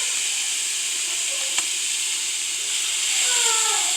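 Lean ground beef fries in a pot as diced tomatoes with their juice go in, giving a steady bright hiss and sizzle with a single brief knock midway, close and even, no voices.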